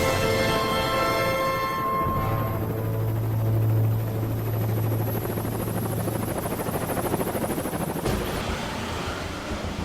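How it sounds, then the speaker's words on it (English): Marine Corps HMX presidential helicopters fly toward the Wall Street heliport in New York, a loud, continuous rotor and turbine roar with steady low thumping that carries through without speech. "The helos of HMX appear on the horizon."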